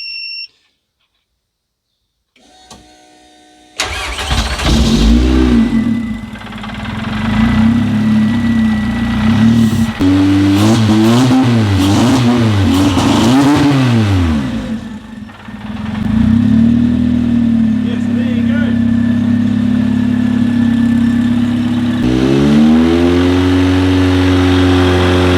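A Toyota MR2 with an HX52-turbocharged 1.8T engine starts for the first time, cranking briefly before catching into a loud, rough idle, then revving up and down in several rising and falling sweeps.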